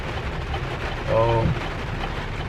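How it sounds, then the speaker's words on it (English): Steady hiss of rain falling outdoors, constant and fairly loud, with a brief low hum rising in the middle. "As y'all can hear and see, it's raining"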